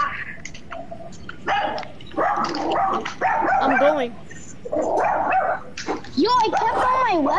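A puppy barks and yips in short, high bursts, close by, mixed in among people talking.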